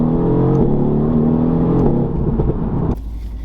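A Mercedes-AMG GT-R V8 engine revs hard and close up, its pitch climbing through quick, abrupt gear shifts before the roar drops off sharply near the end.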